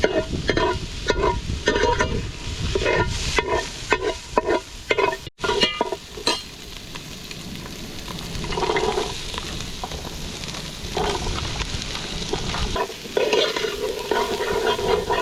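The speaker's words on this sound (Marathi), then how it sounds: "तेल न टाकता आपण पहिला कांदा हा भाजून घेतला शकतो" Onion dry-roasted without oil in a pan for village-style mutton, loud rhythmic spatula scraping and stirring over a steady sizzle, with a brief pause midway before the stirring and frying carry on.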